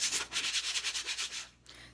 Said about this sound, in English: another video of me just sanding a piece of wood down